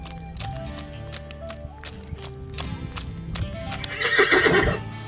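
Horses at Monument Valley, with hooves clopping in an uneven rhythm at close range before a loud, shrill neigh rises near the end, no talking over it.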